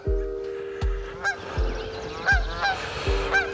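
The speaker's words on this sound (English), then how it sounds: "That's very pretty with the geese flying across." Geese honking in flight over a golf course in the Pacific Northwest, a series of distinct nasal calls repeating every half second or so, with low thumps marking each burst.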